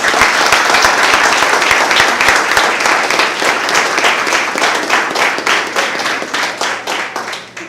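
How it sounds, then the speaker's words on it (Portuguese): A church congregation breaks into loud, sustained applause, many hands clapping together close by in a dense, steady wash that eases off slightly toward the end. "Uma salva de palmas do Senhor."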